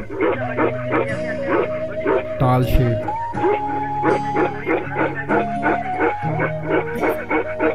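A Himalayan livestock guardian dog barks repeatedly with open mouth in quick yipping bursts, fairly close, while a person talks over it.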